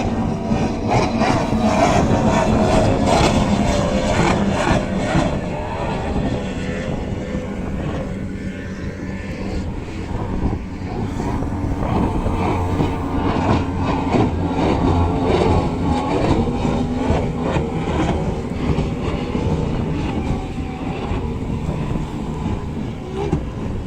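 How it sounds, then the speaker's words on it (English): Powerboat racing off Benalmádena near Málaga, a loud, continuous engine roar close by with uneven, rough-running throb that swells and eases across the whole stretch. "his engine doesn't sound too good, does it?"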